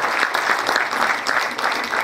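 An audience applauds at a 2014 tribute event for Benigno Ballón Farfán, dense, even clapping from a crowd close by, continuous for a couple of seconds.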